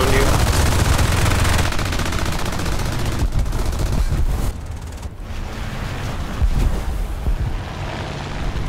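Machine gun fire from a He-51 biplane in War Thunder air combat, long loud rattling bursts over a steady engine drone, with brief pauses between volleys.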